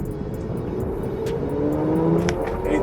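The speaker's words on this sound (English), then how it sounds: "Anytime you step on the gas, this thing just growls" A 2018 Range Rover Sport accelerating, its engine growl rising in pitch as it pulls, heard from inside the cabin under steady road noise with a few light clicks.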